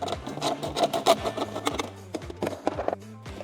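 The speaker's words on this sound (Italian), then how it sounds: "Recuperata la sega, vediamo di accorciare subito la misura del nostro sparapatate." A hand saw cuts through a pipe to shorten a homemade potato cannon, with close, uneven rasping back-and-forth strokes that slow and thin out toward the end.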